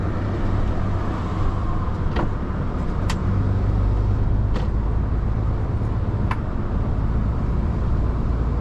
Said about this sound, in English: So we'll let this car overtake and then let's go jump into the right lane.